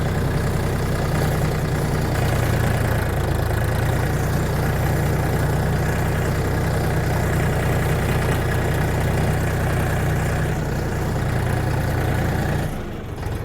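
A DTZ 5244HPX mini tractor's engine runs steadily at idle with a continuous low mechanical drone and vibration, loud and close, with no talk over it and only a slight change near the end.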